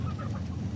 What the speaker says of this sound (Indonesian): saya sempetin dulu untuk kasih makan ayam-ayam yang ada di kandang